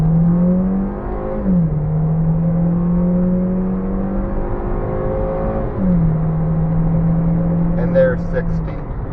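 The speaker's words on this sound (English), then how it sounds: "We're just going to pull out here and do a 0 to 60 test. I have it in normal mode, not eco. So here we go, straight to the floor." A 2013 Kia Soul in normal mode accelerates at full throttle from 0 to 60, its engine droning and rising in pitch through each gear before dropping at two upshifts, loud and close from inside the cabin.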